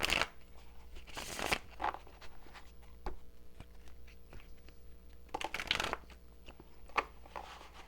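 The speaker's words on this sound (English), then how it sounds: "Now let me shuffle one more time." Soft riffle and shuffle of Guild Tarot cards in two short bursts with quieter handling and light taps between, faint and close.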